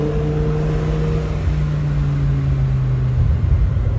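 Supercharged, catless BMW M5 E60 with a V10 engine idling and droning in a steady, loud, low rumble, with a slight rise in pitch near the end, and no voices.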